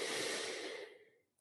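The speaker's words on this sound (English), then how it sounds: "take an intentional inhale through your nose" A slow, deliberate inhale through the nose during a guided meditation, close and soft, a breathy rush that fades away over about a second.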